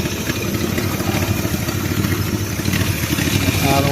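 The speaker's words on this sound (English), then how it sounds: "Turn the idle up here a little bit." Small engine idling steadily and fairly close, a continuous low rumble with light clatter while the idle is being adjusted upward, no talk over it.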